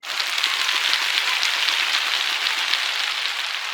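A canned applause effect fired from a button on a Temu microphone, a dense, even wash of crowd clapping that runs steadily at full level from start to finish with no voices over it.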